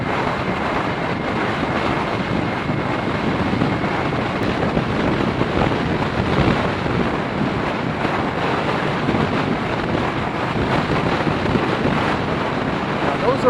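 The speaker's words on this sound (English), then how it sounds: "there's a lot of wind, and it is definitely blowing" Strong wind blowing outdoors, a loud, constant roar buffeting the microphone without letup, with a voice faintly audible beneath it.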